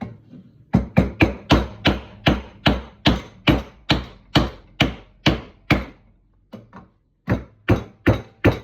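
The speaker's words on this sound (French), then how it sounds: "On va déjà y foutre les 3 coups de maillet sur la tronche." A mallet striking a stuck fork on a Peugeot 103 MVL/Vogue moped, a loud close run of sharp, evenly spaced blows, a brief pause, then a few more hits.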